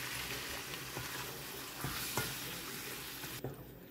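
Chicken sautés with garlic and tomato in a pan: a steady, close sizzle of frying under a few soft scrapes of stirring, fairly quiet and with no talking.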